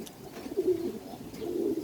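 Pigeons coo softly outdoors, two low rolling coos about a second apart, fairly faint over light background noise.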